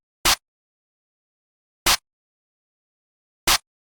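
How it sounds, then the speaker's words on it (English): Three sharp electronic claps from a Black Swan clap sample in a drum kit, evenly spaced and isolated, each a short bright snap with silence between them. "Next is the clap pattern."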